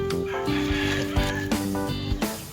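A Bangkok rooster suffering from a snoring respiratory disease makes rough, congested clucking and gurgling vocal sounds, close and fairly loud, in several irregular bursts.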